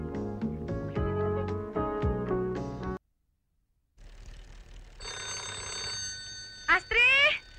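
An old telephone bell rings in a 1982 Indonesian film, a steady burst of metallic ringing cut off by a pause, then a sustained electronic trill over film music.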